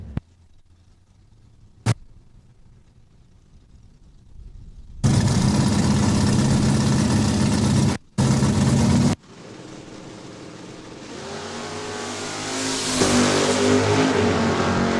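A 1968 Oldsmobile Cutlass 442 and a 1982 Chevrolet Camaro at a Saskatchewan International Raceway drag race, with quiet idle and a sharp pop, then loud roaring engines launching and accelerating hard, a brief cut, and a sustained revving pull fading into distance.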